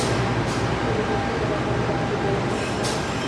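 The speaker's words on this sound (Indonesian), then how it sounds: "Agak sedikit bising ya, karena masih berada di area mesin." Pasundan passenger train heard from near the engine area of its double-traction locomotives, a loud, dense, continuous rumble and roar with steady rolling noise throughout.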